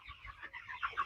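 A chicken clucks softly in short, uneven bursts while being held and weighed on a farm, a bird of about 1.78 kg; the calls are faint and close, with no talking.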